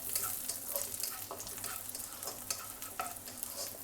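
Garlic sautés in butter in a pan with a steady close sizzle, broken by repeated scraping stirs of a utensil against the pan.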